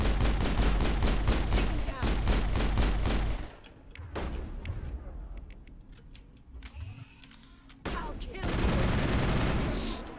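Rapid gunfire from a Mass Effect shootout, dense bursts filling the opening seconds, then scattered sharp shots over a quieter combat backdrop before heavy firing resumes near the end.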